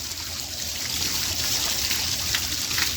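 Rainwater trickles and splashes down partly clogged, obstructed rain chains, a steady moderate flow with no talking.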